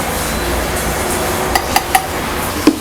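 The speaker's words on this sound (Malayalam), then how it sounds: "സ്പൂൺ വെച്ചിട്ട് ഒന്ന് മിക്സ് ചെയ്തെടുക്കാം" A spoon stirs wheat flour into a mug for a steamed mug cake. A soft scraping is followed by a few sharp ceramic clinks, spaced irregularly near the end.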